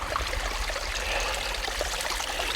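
Stream water trickles and splashes steadily at a backcountry camp spot during a fall bear hunt while a hydration bladder is filled, a close, continuous babble with no talk.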